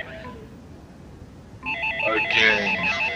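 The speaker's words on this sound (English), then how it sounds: "Again, the ringing." Telephone ringing starts after a quiet stretch, a loud close trilling ring pulsing rapidly over low background noise.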